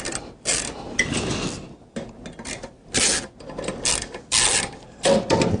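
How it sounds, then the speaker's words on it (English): An 8mm socket turns captive screws out of a drive enclosure, giving close, clicking ratchet-like mechanical bursts separated by short pauses, several turns in a row with no talking. "There's a screw in each corner. I've got an 8mm socket. They're captive screws"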